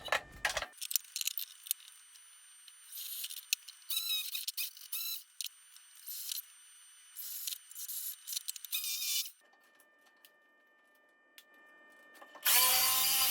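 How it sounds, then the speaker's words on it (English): A jigsaw cuts through poplar wood in loud, close bursts of buzzing and rasping, stopping and restarting several times with quiet gaps, then a final burst at the end. "Now that the jigsaw is cutting straight, I can basically connect the dots."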